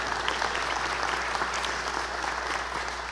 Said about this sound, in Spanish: quiero que le demos un aplauso a la distancia a Valeria Coronel